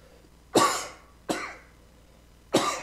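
Three sharp, separate coughs from a nearby person, each a harsh burst that tails off, spaced about a second apart, with no talking in between.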